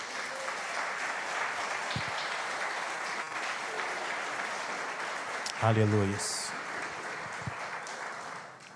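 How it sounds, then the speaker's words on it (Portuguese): Steady applause from a church congregation fills the clip, with a brief shouted exclamation partway through. "Você pode dar um aplauso ao Senhor em nome de Jesus?"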